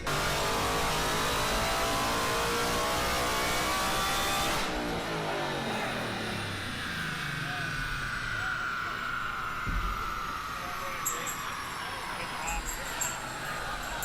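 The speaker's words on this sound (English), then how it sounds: "about to get his car dynoed" Ford Mustang engine revving on a dyno at a Mustang event: a loud sustained roar that drops off and leaves a lower droning run with rising and falling tones, with voices underneath.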